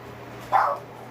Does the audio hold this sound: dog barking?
yes